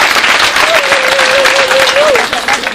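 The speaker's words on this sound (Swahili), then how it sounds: "Makofi kwa Mungu." Loud, sustained applause from a church congregation at a thanksgiving mass, many hands clapping in a dense wash with crowd voices and a rising vocal cry mixed in.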